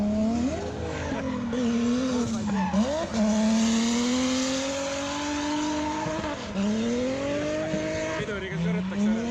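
A race car drives hard around a track, its engine note climbing and dropping through gear changes as tires squeal and skid under braking, loud and close with other noise mixed in.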